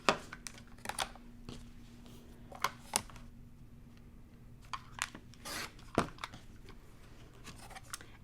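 Quilt fabric cut a quarter inch from a stitched seam, heard as a series of sharp, close snips and crisp slices separated by short pauses, quiet in between, no talking.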